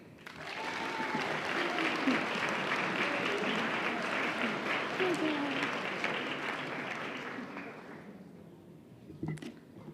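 Sustained clapping from a school audience at a senior awards assembly as a student comes forward for a certificate, steady for about eight seconds before dying away, with a couple of brief knocks near the end.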